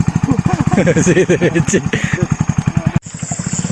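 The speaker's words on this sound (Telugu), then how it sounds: "మన బైక్ వస్తుంది" A motorcycle engine chugs loudly and close by in a steady, rapid pulse, with voices talking over it before it cuts off abruptly.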